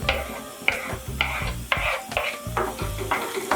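Tomatoes and onions fry in a pan for chicken gravy, with a soft sizzle under repeated rhythmic stirring scrapes, about seven close strokes in quick succession.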